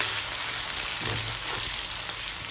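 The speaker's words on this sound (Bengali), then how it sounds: "এই পেঁয়াজটা ভাজবো, ভাজতে ভাজতে দেখো কি করি।" Sliced onions frying in ghee for a Bengali prawn curry with curd, giving a steady, loud sizzle that runs unbroken throughout, with a faint scrape of stirring partway through.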